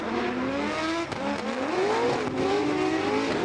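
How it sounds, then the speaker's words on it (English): A race car on the Irwindale Speedway oval, its engine rising and shifting under load with a few sharp pops and bangs from underneath, heard at a distance amid broadband track noise. "with the pops and the bangs coming out from underneath the car"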